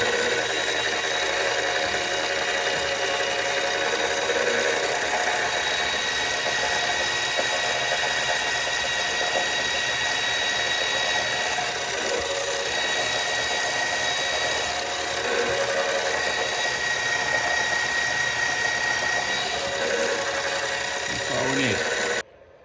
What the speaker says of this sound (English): we're just going to put a center drill on it